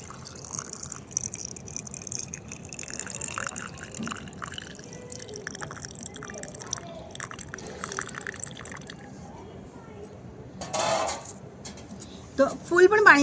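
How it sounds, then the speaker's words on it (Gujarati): Turmeric water and then plain water are poured over green turmeric in a jar, giving steady soft dripping and trickling with a brief fuller pour and clinks near the end, under intermittent talk. "અડધું હળદરવાળું પાણી ઉમેરવાનું છે અને બીજું આપણે સાદું પાણી ઉમેરવાનું છે."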